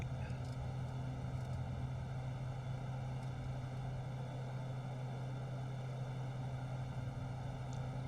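A propeller bush plane in the X-Plane 11 flight simulator climbs out after takeoff in Alaska, its engine a steady, even drone with a strong low hum and faint tonal whine, continuous and unbroken.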